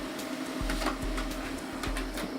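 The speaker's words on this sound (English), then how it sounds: "that page comes out of the printer" Office printer printing a page, a steady mechanical whir and hum with repeated rhythmic clunks from the paper feed, moderately loud and close with no talk.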